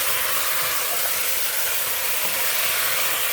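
Chicken curry meat searing in a pan on high heat, a loud, steady, close sizzle and hiss that runs unbroken throughout with no voices.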